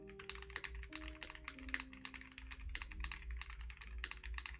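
Rapid, steady keystrokes from a mechanical keyboard with an acrylic top, tested without foam, clacking close up in a dense continuous stream over a low background hum.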